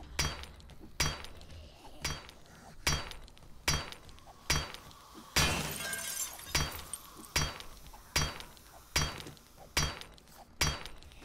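Desks get smashed in 7 Days to Die: a steady run of about fourteen sharp, loud impacts roughly every eight tenths of a second, with a longer crashing break-up midway through.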